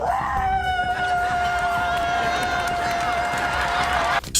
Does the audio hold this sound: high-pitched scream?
yes